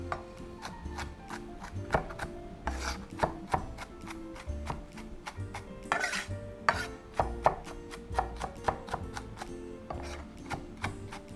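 Sharp repeated knife strokes chop through onion on a board, an uneven series of crisp taps close by with no voices, over a faint steady kitchen hum.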